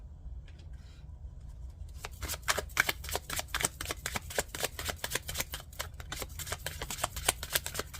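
Tarot cards are pulled and shuffled close up: a quiet start, then a fast run of crisp riffling snaps and slides that continues steadily.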